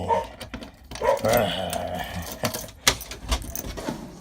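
A dog barks and growls at knocking indoors, sharp loud barks in irregular bursts close by, with a person's voice talking briefly among them.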